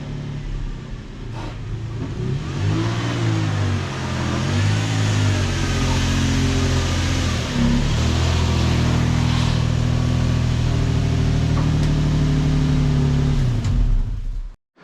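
A car engine revs and rumbles steadily at close range as it pulls into a garage, rising and falling in pitch through repeated throttle changes over about fifteen seconds, with no talking.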